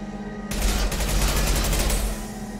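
Sustained automatic gunfire from a machine-gun-like weapon in the video game Mass Effect 2, starting abruptly after a brief pause and rattling loudly for about a second and a half before easing off.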